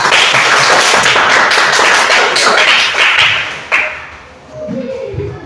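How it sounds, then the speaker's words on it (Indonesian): Children clap their hands for a classmate in a classroom, a dense patter of small hand claps sustained for several seconds, with a brief thud near the end as the clapping thins out. "Kita tepuk tangan untuk Ipa."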